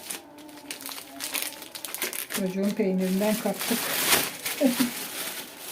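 A plastic bag crinkles and rustles in bursts as crumbly lor cheese and stretchy cheese go into it for a börek filling, close to the listener, while someone talks over it.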